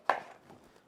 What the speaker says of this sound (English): We're just going to cut these into big cubes.